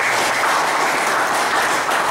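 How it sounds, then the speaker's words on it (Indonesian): Audience at an Indonesian regional gathering breaks into loud, sustained applause for Pak Mendra, a dense continuous roar of many hands clapping with no speech on top. "Tepuk tangan untuk Pak Mendra."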